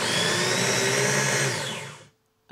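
An electric chopper whirs steadily as it chops garlic for a chicken tagine, a loud, even motor drone that spins down and stops, followed by a brief knock.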